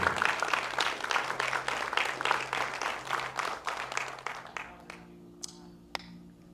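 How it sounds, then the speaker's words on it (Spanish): A church congregation applauds loudly, with dense, steady clapping that fills the room for several seconds and then tapers off, leaving a few scattered claps. "Den un fuerte aplauso al Rey de Reyes."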